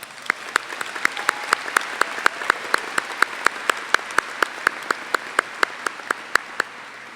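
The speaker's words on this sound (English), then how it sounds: "Let's give them all a round of applause." Sparse, evenly spaced claps ring out over a faint hum at an honors ceremony, a few distinct strikes per second, steady and moderately close.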